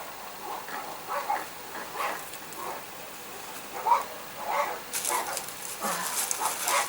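Dogs bark out in a street, a few sharp barks and yips scattered through the clip at a moderate distance over a faint background hiss, with no one talking.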